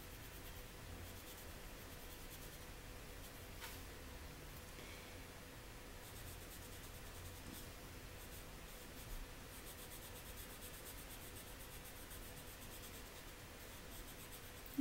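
A pencil scratches and rubs continuously across paper while someone colors a page in yellow, giving a faint, close, steady strokes-on-paper texture with no talk.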